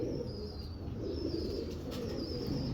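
Pigeons cooing low and steady amid continuous background noise and a faint high whine, with occasional soft wing flutters, no talking.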